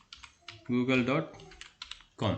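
Keys clatter on a computer keyboard while a web address is typed into a spreadsheet link, quick clicks mixed under a voice speaking.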